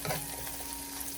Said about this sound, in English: keep sauteing until we see just a little bit of char